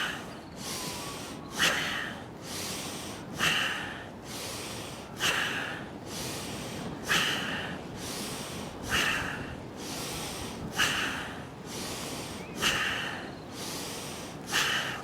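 Forceful rapid nasal exhales of bhastrika bellows breathing in a yoga pranayama practice, a steady pulsing rhythm of about ten sharp breaths, each a close, loud snort-like rush of air.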